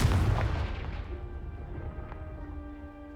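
A Confringo blasting spell explodes in Hogwarts Legacy, a loud booming blast that rolls away into a long fading rumble and ringing tail.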